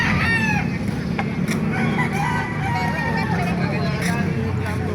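Roosters crow repeatedly among clucking chickens at a poultry market in Calumpit, Philippines, loud and close, over constant outdoor crowd chatter and a low background rumble.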